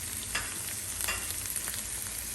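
Chicken pastil with black pepper powder being stirred in a pan, a steady sizzle with a few soft scraping strokes of the spoon, close and continuous, no talking.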